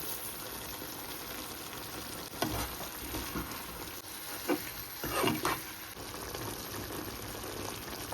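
Tomatoes with salt and curry leaves fry in a pan for tomato chutney, giving a soft, steady sizzle with a few brief stirring clinks and bubbles, close but faint.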